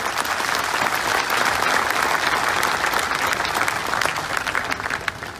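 Sustained applause from a rally audience at a workers' conference in Guna, dense steady clapping from a large crowd that holds for the whole stretch and eases slightly at the end.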